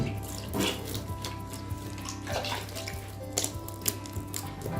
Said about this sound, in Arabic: هنايا مازال نزيد شويه ماء.